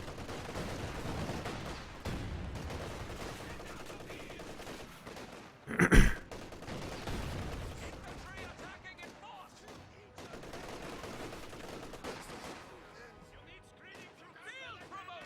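MG34 machine gun fire in the Company of Heroes 2 strategy game, crackling bursts within a dense battle soundscape with one sharp loud blast near the middle, mixed under a commentator's steady talk.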